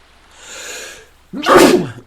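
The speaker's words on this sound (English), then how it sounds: "I need to sneeze." A single loud, close sneeze: a drawn-in breath followed by a sharp, explosive burst, with no other voices.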